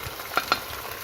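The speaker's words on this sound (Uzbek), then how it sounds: "Birgalikda qovurilishi uchun kartoshkamizni ham solamiz." Potatoes frying in oil in a pot for a potato and bean plov, a soft steady sizzle broken by two quick clattering bumps in the middle.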